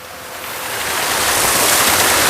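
A waterfall at a garden grove pours in a steady broadband rush of falling water that swells louder over the first second and then holds, close and alone without voices.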